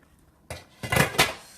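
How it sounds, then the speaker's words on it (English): Metal utensil scraping and clanking against a pot of boiling fettuccine, a few sharp stirring knocks in quick succession, close and fairly loud. "So we just stir it a little bit."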